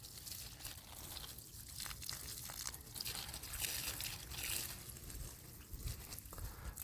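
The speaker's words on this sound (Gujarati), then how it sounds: "તો આપણે આને બોટલથી પાણી પાવાનું છે." Water trickles and splashes from a bottle onto a young peepal sapling outdoors, a soft continuous pour under steady background noise, with no voices.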